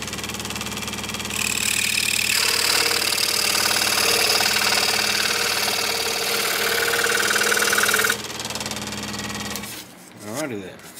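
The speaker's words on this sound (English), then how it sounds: "I'm going to trim this peg head overlay so that it fits on there" A powered trimming tool runs steadily on a guitar neck's peg head overlay in a luthier's workshop, a loud continuous whine that shifts pitch midway, then cuts off into quieter shop noise.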